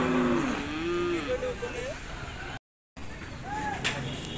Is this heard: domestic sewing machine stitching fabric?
no